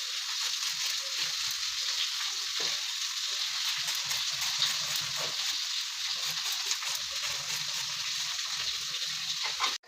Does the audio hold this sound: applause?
no